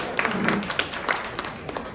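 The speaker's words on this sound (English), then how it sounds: "That's where the big round of applause goes." A crowd at a community mixer gathering gives a round of applause, a dense patter of clapping with a few sharper claps standing out, moderately loud and without talk.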